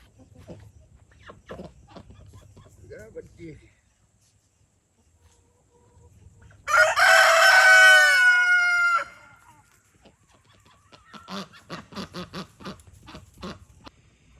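A breeder rooster gives one loud, close crow lasting about two seconds, while chickens cluck and scratch around it in softer, scattered bursts before and after.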